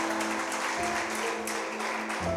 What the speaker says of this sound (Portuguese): Vamos aplaudir bem forte o nome do Senhor.